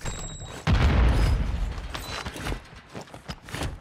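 Grenade blast in a French online squad shooter game: a sudden heavy boom breaks in after a short quiet moment and trails off into scattered rumble and clatter, with no talk over it.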